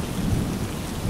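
A thunderstorm sound effect for a Bengali horror story: heavy rain hammers down with a deep, rolling thunder rumble underneath, loud and dense for its whole short length.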